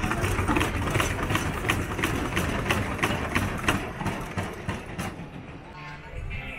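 A wooden junior roller coaster train at PortAventura World rumbles and clatters along its track with rhythmic clacking, steady and loud throughout, with voices faintly mixed in.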